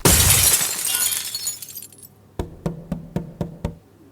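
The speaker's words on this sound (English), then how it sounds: "launches his fist towards his reflection" A mirror shatters under a punch, a loud crash of breaking glass that decays over about two seconds, followed by a run of six evenly spaced knocks.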